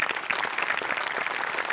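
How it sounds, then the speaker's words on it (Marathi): Steady applause from a studio audience at a Marathi television comedy show, dense and continuous clapping throughout the short stretch with no talk over it. "सगळ्यात आधी मोठे सरांसाठी खूप जोरदार टाळ्या व्हायला पाहिजेत"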